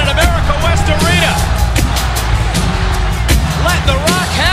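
Sold-out wrestling crowd filling America West Arena, a loud continuous roar of cheers and chatter with sharp whistles and shouts rising above it throughout.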